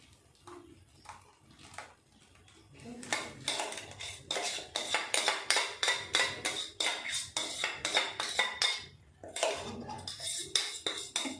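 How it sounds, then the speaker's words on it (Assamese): Blended mango ice cream mixture scraped out of a blender jar into a container, a spoon clinking and scraping in a fast, repetitive rhythm, close and fairly loud after a few quieter knocks. "এতিয়া মই এই পিচি লোৱা এই গোটেইখিনি বস্তু ইয়াতে মই ঢালি দিম"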